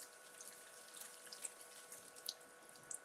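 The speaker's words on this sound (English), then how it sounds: "Let me just give this a rinse." Food is rinsed under a running kitchen tap, giving a soft, steady hiss of water with a few faint splashes and drips, quiet and close.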